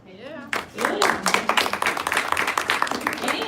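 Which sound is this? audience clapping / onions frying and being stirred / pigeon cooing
audience clapping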